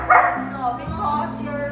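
A male Mexican Hairless Dog (Xoloitzcuintli) gives a couple of short, close barks and yips, mixed with people talking nearby.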